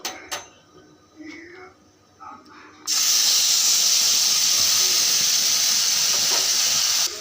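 Ground spices dropped into hot oil after blackened panch phoron, bursting into a loud, steady sizzle that holds for several seconds after a few quiet kitchen clatters.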